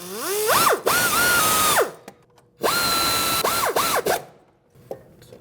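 Power tool driving 12mm bracket bolts on a 2012-2016 Honda CR-V front suspension, two loud close bursts of rising, whining motor speed separated by a pause, ending in short ratcheting chatter.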